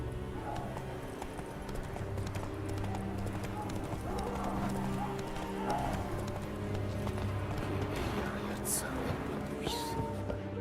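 Horse hooves clip-clop steadily at a walking or trotting pace in the video game The Witcher 3, set against a busy game soundscape with ambient background noise.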